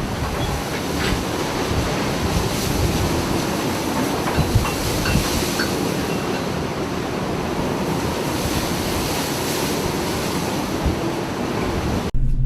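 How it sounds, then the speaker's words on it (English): Powerful waves surge and crash near rocks as a small fishing boat passes in a storm, a loud, continuous roar of rushing water and wind with no break or voices. "A small fishing boat passes powerful waves near the rocks."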